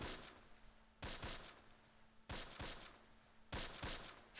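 Scattered bursts of gunfire from a World War II tactical battle in the Close Combat game, three short volleys spaced a second or so apart over low ambient noise, sounding moderately distant with no voices.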